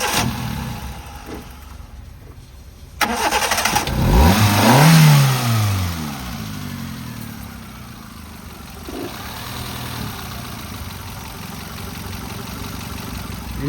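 A 2015 Hyundai i10 1.1 petrol+LPG hatchback cranks and starts, rising into a loud rev that sweeps up and falls back to a steady, fairly quiet idle running on nearby.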